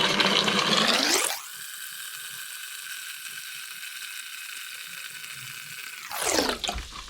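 Cold tap water runs steadily into a sink for several seconds, a smooth hissing stream with louder splashing at the start and end as the flow begins and stops.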